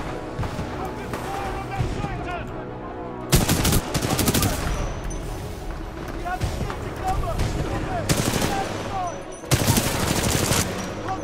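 Heavy supporting gunfire from a Titan mech in Titanfall 2 tears out in loud sustained bursts, several long volleys breaking over ongoing combat noise while a voice talks.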